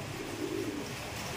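A wet racing pigeon just back from a race coos softly and steadily up close, a low murmuring call holding over a constant background hum.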